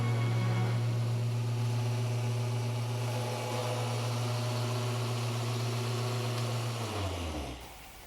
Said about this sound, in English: Just with the machine polisher spooling down